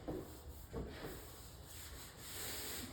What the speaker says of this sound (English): This is just a Bondo spreader.